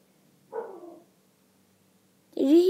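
A dog barks from downstairs in a house, two short muffled barks separated by a pause, the second louder and closer-sounding, with no talking over them.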